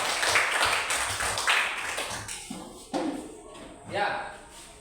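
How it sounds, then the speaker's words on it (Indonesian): Fourth-grade primary school class clapping for a classmate during a science lesson, a short burst of mixed clapping and shuffling that fades out within a few seconds as a teacher's voice comes in. "Baik, tepuk tangan buat teman kita."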